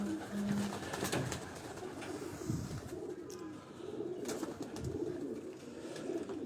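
Pigeons in a Lahore loft coo softly in low, repeated throaty calls, faint and close amid quiet background rustling, with no talk over them.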